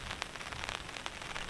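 Steady rain patters on a surface at a solo wild camp, a dense continuous hiss with scattered sharper drops, close and fairly faint.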